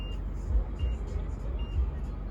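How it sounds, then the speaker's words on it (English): A 2017 Mazda CX-9 Azami's parking proximity sensor gives short, evenly spaced high beeps, faint against low engine and cabin rumble. "That beeping noise is simply those proximity sensors"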